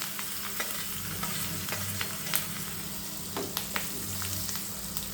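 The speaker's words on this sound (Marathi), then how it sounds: "त्याच्यामध्ये कढीपत्ता टाकूया आणि मिरच्याचे तुकडे, आणि आपले हे शेंगदाणे जे आहेत ते आपण थोडेसे तळून घेऊया त्याच्यामध्ये" Curry leaves, chilli pieces and peanuts fry in hot oil for a tempering, a steady close sizzle broken by scattered crackles and stirring scrapes, with no talking.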